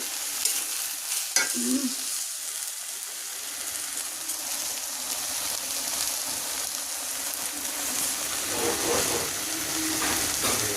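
Jute leaves fry in a pan with green chili, onion and plenty of garlic, a steady close sizzle with scraping stirs and occasional clinks of the utensil against the pan.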